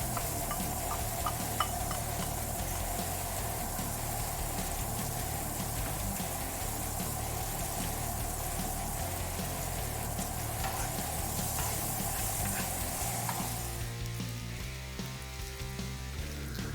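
Butter and diced red onion sizzle steadily in a pan, a dense crackling hiss that holds loud and even for most of the stretch, then thins and quiets near the end.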